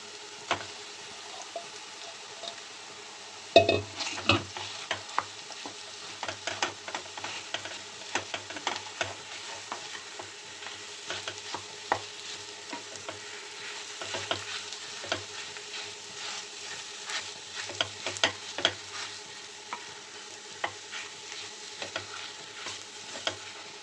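Mashed sweet potato stirred and fried in a pan, a quiet steady sizzle beneath scraping spoon strokes that start after a few seconds of near-silent frying and repeat irregularly throughout.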